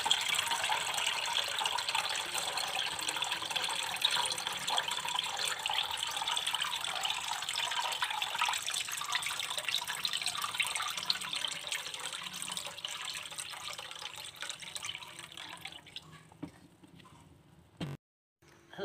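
Water gushes steadily into a pot for a long stretch, a broad hissing pour that fades near the end, followed by a brief clunk.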